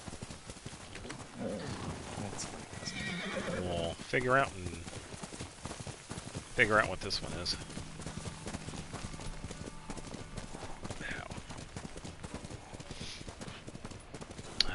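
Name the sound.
horse Kaze's hoofbeats in video game Ghost of Tsushima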